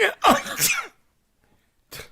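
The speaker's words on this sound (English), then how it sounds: "They make me sneeze." Sneezing from a character in a vintage radio drama, set off by roses: a couple of sharp, noisy bursts in quick succession, a short silence, then another brief burst close to the microphone.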